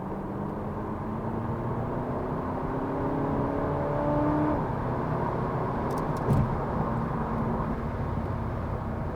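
A remapped Audi-group 2.0 TDI diesel car with the CUAA engine pulls hard from 50 to 70 mph for a motorway overtake, a steady interior drone of engine and road roar with a rising engine tone and no talk.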